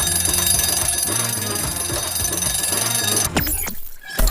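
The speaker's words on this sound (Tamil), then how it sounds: "அலாரம் வைத்து எழுதல்" An alarm clock rings at dawn, a loud, continuous electronic tone with steady repeated pulses over a mid-level background, then cuts off abruptly into a brief scuffling noise.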